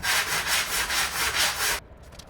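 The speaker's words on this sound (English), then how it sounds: "Because this is such a small spot, I'll be using this foam sander to sand this thing." A foam sander rubs back and forth over a small patched spot on a wall in steady, even strokes, a loud close scratchy hiss that stops abruptly near the end.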